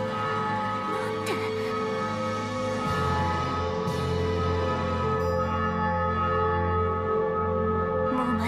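A large bell in the game GrimGrimoire tolls for the fifth day, with long ringing overtones sustained over a steady drone of music throughout.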